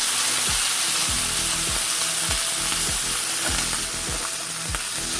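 A steak sears in a hot pan with garlic and butter nearby, giving a loud, dense, continuous sizzle with faint repeated clanking mixed in.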